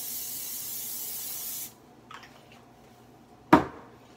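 A can of cooking spray hisses onto a pan in a steady burst for over a second, then stops; a faint clink follows and a sharp knock lands near the end.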